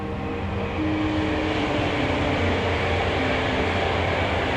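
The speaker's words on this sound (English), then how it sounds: "The train's rather close." A train rumbles past close to a moored narrowboat, a loud continuous roar with a faint tonal whine layered over the steady noise.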